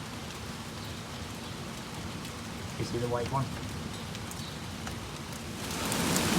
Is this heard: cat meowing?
no